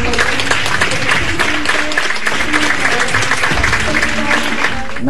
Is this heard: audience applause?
yes